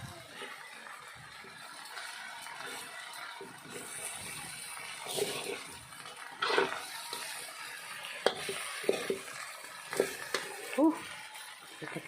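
Pansit noodles stir-fry in a pan with a soft sizzle, scraping and occasional clatters of the utensil against the pan, while voices talk nearby.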